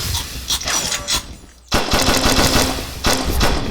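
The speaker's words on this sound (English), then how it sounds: "Let's have something more aggressive of a weapon. This little pistol." A pistol fires in a video game: loud, close bursts of rapid, sharp gunshots, broken by a brief near-silent gap before the shooting resumes.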